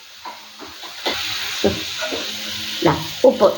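Dried prawns fry with shallots in a pan, giving a faint, steady sizzle under someone speaking. Scattered scrapes and clinks of stirring break through now and then.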